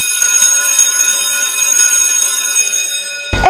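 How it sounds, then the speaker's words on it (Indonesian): A school bell rings continuously with a loud, bright, sustained metallic tone that holds steady for several seconds before stopping abruptly. "udah bel tuh, ayo masuk"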